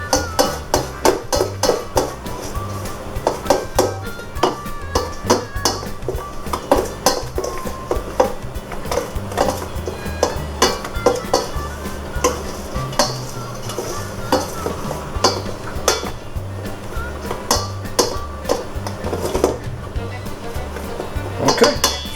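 A fork works butter into biscuit dough in a bowl, giving rapid, repeated scraping and clinking strokes against the dish in a busy, close rhythm that continues throughout.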